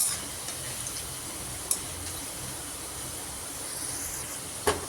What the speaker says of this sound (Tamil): அதனால் நல்லா பொரிச்சிடணும் எண்ணெயில்.